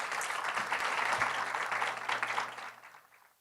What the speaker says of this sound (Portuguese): Palmas para o Kogo, por favor